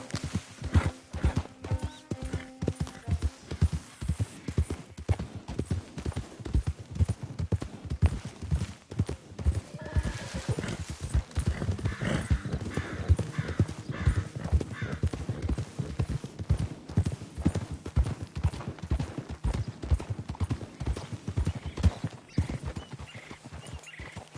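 Steady, rhythmic clip-clop of horse hooves on a hard surface continues throughout, close by, with a brief whinny partway through.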